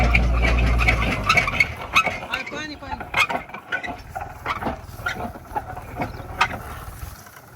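Clanking, ratcheting machinery from a tractor digging pits for solar panels, with a low engine rumble and rhythmic metallic knocks, voices talking nearby over the mechanical noise.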